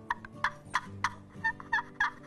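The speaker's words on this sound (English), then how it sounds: "This is another type of box call." A wooden turkey box call rubbed in short strokes, throwing out about nine sharp, raspy yelps in an uneven rhythm, loud and close with no voices.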